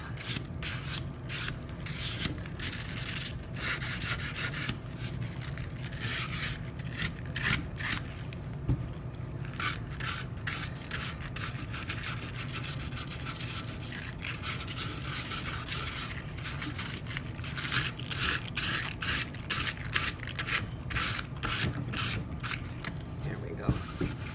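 Paint being rubbed and distressed on a wooden toolbox, with repeated rhythmic rasping scrapes over a steady low hum, close and fairly quiet; a person speaks at times.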